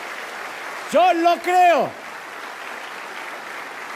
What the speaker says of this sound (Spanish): Alguien tiene que adorar más que eso con un aplauso.